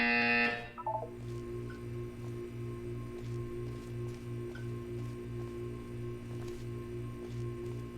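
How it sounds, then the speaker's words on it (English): Loud harsh buzzer blares briefly at the start in a Portal 2 test chamber, then cuts off, leaving a steady pulsing mechanical hum and faint ticking for the rest. "You will hear a buzzer."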